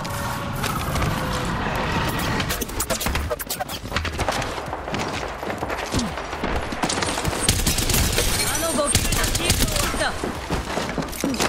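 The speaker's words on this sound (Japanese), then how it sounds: "ドリル発射。" Mad Maggie's drill launches amid a fierce Apex Legends firefight, with dense, continuous bursts of gunfire, impacts and crashes filling the whole stretch at loud, steady intensity.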